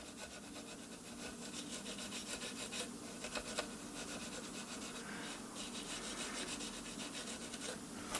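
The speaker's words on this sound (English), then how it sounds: "you're going to very lightly scrub the contacts" Light, steady scrubbing on the contacts of a NuTone Model 2411 stereo remote intercom control, a soft, continuous close-up rubbing and rasping with faint scratchy accents and no talking.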